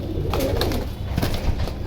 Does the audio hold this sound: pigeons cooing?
yes